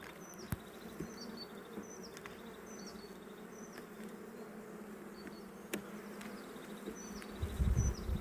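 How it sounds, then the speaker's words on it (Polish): Many honeybees buzz steadily around a hive during a spring inspection in calm weather, a dense, close hum with faint repeated chirps above it and a rumble near the end. "Pszczoły są spokojne."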